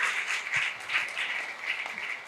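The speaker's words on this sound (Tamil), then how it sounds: "அவருக்கு ஒரு பலத்த கைத்தட்டலோடு" An audience gives steady, dense applause for a former primary school teacher arriving as a guest at a public gathering in Rajavel Nagar. The clapping fills the whole short stretch with no voices heard.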